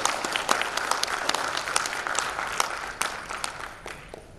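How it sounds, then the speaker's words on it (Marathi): Hearty audience applause at a national environmental conference, dense continuous clapping with sharp individual claps standing out, fading toward the end. "आपल्या सर्वांसाठी एकदम जोरदार टाळ्या वाजवून"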